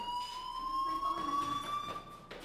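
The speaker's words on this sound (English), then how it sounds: "do you hear that fire alarm?" A fire alarm rings in the game Life Is Strange: a steady electronic tone that rises slightly in pitch, sounding alone at moderate loudness for a couple of seconds.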